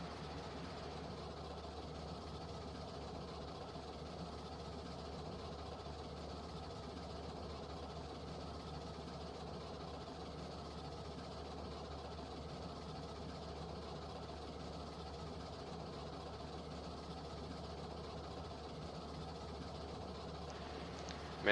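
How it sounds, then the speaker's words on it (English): Steam locomotive engine in the train simulation game Railroads Online, a steady low rumbling chug with a constant mechanical drone running unbroken throughout at moderate, even loudness. "it puts you to sleep just listening to these steam engines chug like this"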